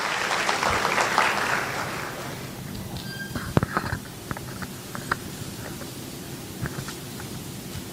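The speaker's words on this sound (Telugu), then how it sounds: "please clap for her" Audience applause at a 2024 Telugu celebration event, a dense burst of clapping at the start that fades within a couple of seconds, followed by scattered claps and room noise.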